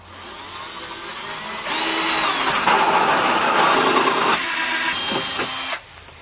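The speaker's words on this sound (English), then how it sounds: "this hole saw, which is a little smaller than I need" A power drill with a hole saw cuts an opening for a 12V outlet in an Aliner camper, one close, loud grinding whine lasting about four seconds with a brief dip near the end, then it stops.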